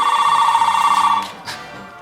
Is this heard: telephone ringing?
yes